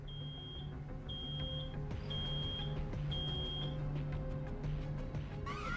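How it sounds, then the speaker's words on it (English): An alarm in the video game Road 96 sounds as a series of high electronic beeps in repeated bursts, over a low steady hum, ending with a rising tone. "It's an alarm."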